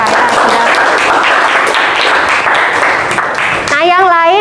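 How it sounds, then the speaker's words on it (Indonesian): Students in a school classroom clap together, a dense, close burst of applause that fades as a teacher starts speaking at the end. "Kasih tepuk tangan dulu untuk mereka ya"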